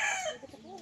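Chicken heard on a mountain hillside where children fly kites, giving a short, fairly close crow-like call at the start that fades into quieter rustling.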